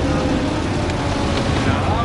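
A tour boat cruising on the river in Prague, a steady loud rumble of engine and water with wind noise throughout.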